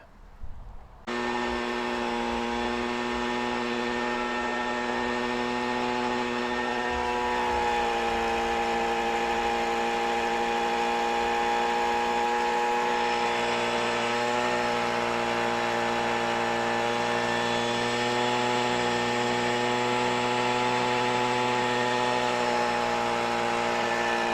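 A Toro Homelite Expand-it all-in-one garden tool's small two-stroke engine runs steadily after starting, a loud, continuous high-pitched buzz with strong harmonics that holds a fairly even pitch and dips slightly now and then, with no voices.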